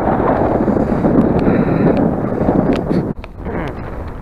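Strong wind buffeting the microphone at a mountain viewpoint on a March hike, a loud close roar that runs throughout and drops briefly near the end.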